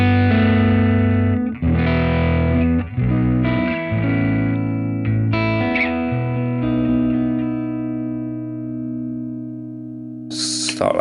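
Distorted electric guitar played through a Line 6 Pod GO amp model, loud chugging chords and sustained notes with a tight low end, heard alone with a brief burst at the end.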